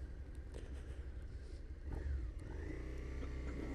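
Motorcycle engine while riding, a quiet low rumble with engine tones that rise and swell in the second half as the bike pulls away, heard alone without talk.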